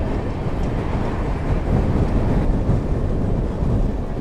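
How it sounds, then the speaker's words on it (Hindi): On the Delhi–Amritsar line near Khanna, the Pathankot–Delhi Superfast Express hauled by a WP7 locomotive crosses by. It makes a loud, continuous low rumble mixed with heavy wind buffeting on the microphone. "लोकोमोटिव दिख गया मेरे को पठानकोट दिल्ली सुपरफास्ट एक्सप्रेस का। WP7 ही लेके आ रहा है इसको भी।"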